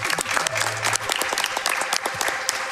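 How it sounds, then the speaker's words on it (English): Audience applause at the Summer Games Done Quick 2019 speedrun marathon during a Looney Tunes run: dense, steady clapping from a sizable crowd, loud and continuous for the whole stretch, with faint talk underneath. "clap up for that."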